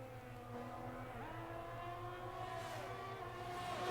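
Formula 1 race cars in the F1 2023 video game whine along with layered engine tones that shift and climb in pitch, a steady faint drone with no voices over it.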